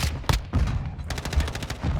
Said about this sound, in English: That's a decoy grenade